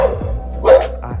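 A dog barks close by, a couple of short yips and a louder bark, with steady low background noise.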